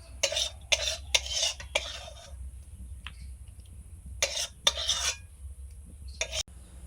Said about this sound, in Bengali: সবজিটা রান্না হয়ে গেছে ঢেলে নিলাম বাটিতে